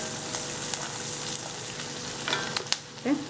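Onion frying in hot oil for semiya kichadi gives a steady, close sizzle with soft stirring scrapes, and a few louder clatters come toward the end.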